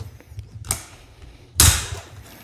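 Plastic graded trading card slab cracked open at an angle, two sharp close snaps about a second apart, the second louder and fuller, with faint creaking between.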